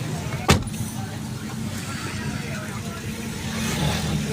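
A car engine hums steadily from inside the cabin on a hot day, low and continuous, with a brief knock early on and people talking over it.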